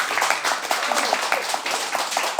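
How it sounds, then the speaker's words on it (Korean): An audience at a gathering of Korean social dance enthusiasts gives a round of encouraging applause, loud and dense clapping filling the room without pause. "격려의 박수 한번 주시기 바랍니다"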